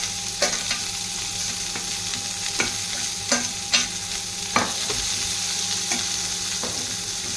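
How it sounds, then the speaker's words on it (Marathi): Onions frying in a hot pan give a steady sizzle, with a spatula stirring and tapping against the pan in a regular rhythm of close clicks and scrapes. "याच्यावर आता कांदा टाकून घेऊया. ते 4 कांदे घेऊया."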